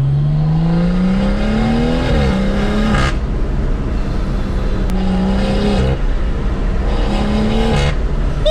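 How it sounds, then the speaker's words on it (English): BMW engine revving with a modified turbo, boost building in rising whooshes and a fluttering chatter as the throttle lifts, loud and close, repeated pulls with no talking. "You got the turbo building boost, you got the turbo flutter, you got the turbo dumping it like a Darth Vader sound"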